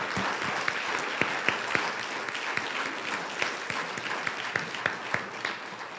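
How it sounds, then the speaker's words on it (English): Audience applause at an annual women's healthcare conference: dense, steady clapping from a sizable crowd filling the room for the full stretch, with individual sharp claps standing out. "I think that she probably deserves a round of applause."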